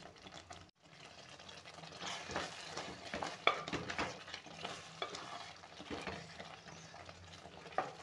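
Rayalaseema-style gongura chicken is stirred in a pan, a close scraping of the spoon against metal over a soft continuous sizzle, with occasional clinks.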